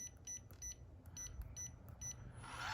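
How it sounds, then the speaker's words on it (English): A Schlage Encode (BE489) electronic deadbolt door lock gives a quick series of short, high beeps in an uneven rhythm, faint against a quiet room. "it won't do anything, it just beeps"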